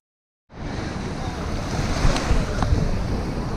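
Waves wash steadily against the shore of Lake George, New York, in a close, continuous rush mixed with wind buffeting the microphone.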